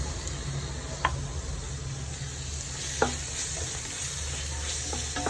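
Ginger, garlic and green chili paste sizzling in a pan for prawn biryani, a continuous steady frying hiss with a few sharp clicks of a spoon stirring against the pan.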